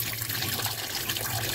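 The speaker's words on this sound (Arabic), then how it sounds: "الميه هتلاقيه بيجمع ميه مش بيصفيها، لا تلاقي الميه بترتفع وتروح مجمعه ميه" Tap water runs steadily into a clogged kitchen sink that is collecting water instead of draining, a continuous close splashing rush with no talking.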